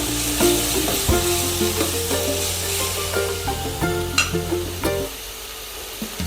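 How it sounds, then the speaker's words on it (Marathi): Green chilli paste sautéing in a pan while aloo paratha filling is cooked, a steady close sizzle broken by repeated scraping stirs and clinks of a spoon against the pan, with no talking. "यामध्ये मी हिरवी मिरची टाकून घेते, ठेचा हिरव्या मिरचीचा ते टाकून घेते। त्याला छान परतून घेते।"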